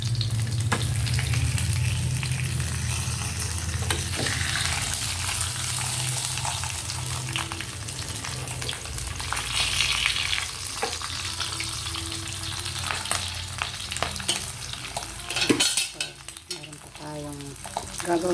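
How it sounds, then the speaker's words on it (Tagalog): Pork chops fry in a pan with a steady, close hiss and crackle of sizzling oil, broken by scraping stirs and small pops, with no talk. "Nagprito na tayo ng pork chop sa ating tanghalian."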